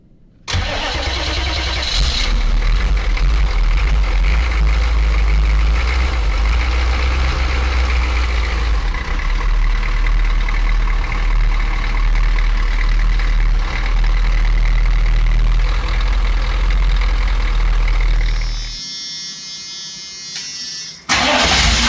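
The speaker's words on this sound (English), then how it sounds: "So now I should have enough power to even maybe start this engine." A Chevy van's 6.2 diesel engine cranks and fires up, then runs with a loud, steady, close clatter for many seconds before shutting off, followed by a brief final burst of noise.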